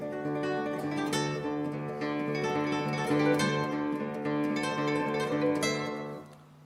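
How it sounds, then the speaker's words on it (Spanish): Classical guitar playing a very fast arpeggio after a rest in a recital setting, a continuous rapid ripple of plucked notes, close and clear with no voices, fading out at the end. "tiene silencio y un arpegio muy rápido que suena así"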